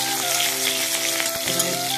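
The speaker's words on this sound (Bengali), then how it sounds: "এবার রসুন তেলের মধ্যে ছেড়ে দিলাম, কাঁচা রসুন ছেড়ে দিলাম।" Crushed raw garlic frying in hot oil with cumin seeds, a dense continuous sizzle and crackle of fine popping, loud and close throughout.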